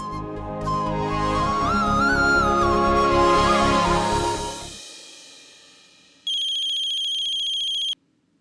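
A telephone ringtone plays loud and close as a bright melodic tune that fades out, followed after a short silence by a steady electronic ringing tone that stops abruptly.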